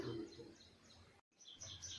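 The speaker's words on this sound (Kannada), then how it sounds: "ಹಕ್ಕಿಗಳು ಚಿಲಿಪಿಲಿ ಯಾವಾಗ ಕೇಳಿಸ್ತಾರೆ" Small pet birds, parrots, chirp faintly in a quiet room, their soft tweets repeating irregularly with a brief silent gap midway.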